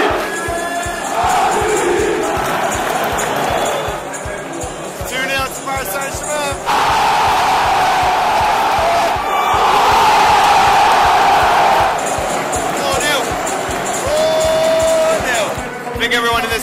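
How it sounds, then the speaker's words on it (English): Paris Saint-Germain football supporters roar and chant in a packed stadium after a 4-0 win over Dinamo Zagreb, with a loud, sustained crowd din that swells and ebbs, plus whoops and shouting throughout. "Everyone in this crowd's loving that 4-0."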